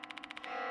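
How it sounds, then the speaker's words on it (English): A bell in the horror video game Death Mark 2 rings in a quick series of about seven bright metallic strikes, evenly spaced, then fades into a sustained ringing tone. "The bell again."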